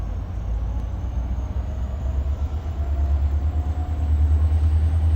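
An outbound Norfolk Southern train rolls through a rail yard at Chattanooga, Tennessee, giving off a steady, loud low rumble that slowly builds, with a faint high whine running above it.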